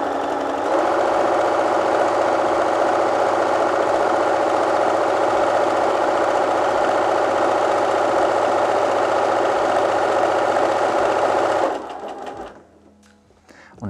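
Bernina B 325/335 sewing machine sewing a cover stitch, a loud, steady, close motor whir with fast rhythmic needle ticking that runs for about twelve seconds before winding down to quiet.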